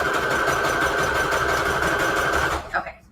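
Sewing machine stitching down a pocket in a Christmas book-page junk journal, a fast steady whirring run that stops abruptly near the end, followed by a few brief handling clicks.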